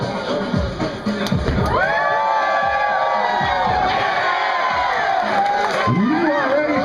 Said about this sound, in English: Let's try one more cheer for Osku.